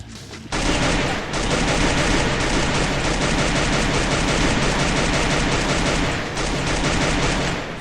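Loud, sustained gunfire from the video game Free Fire rattles on almost without a break for several seconds, close and dense, with no voices heard.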